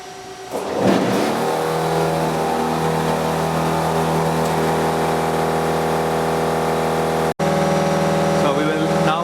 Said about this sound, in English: So now we'll start the generator first